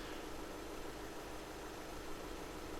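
An ATL roller brake tester runs on a vehicle's left-hand brake, giving a steady, low mechanical drone with constant vibration, moderately quiet and unbroken, with no talking.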